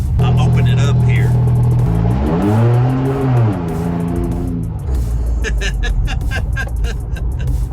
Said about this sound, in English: That exhaust is pretty loud. I'll open it up here.